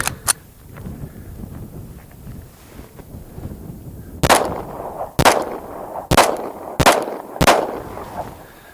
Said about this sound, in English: that was my first shot after the abuse test